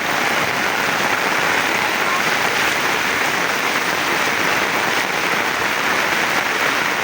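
Heavy rain pours down during a flood, a dense, constant loud hiss of water with no breaks, spread evenly across the whole stretch.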